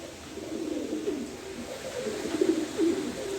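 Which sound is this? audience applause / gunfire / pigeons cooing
pigeons cooing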